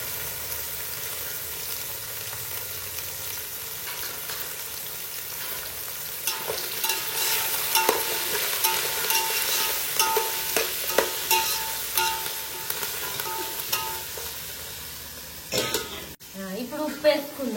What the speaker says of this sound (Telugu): ఇవి మంచిగా ఆయిల్లో మగ్గాలి.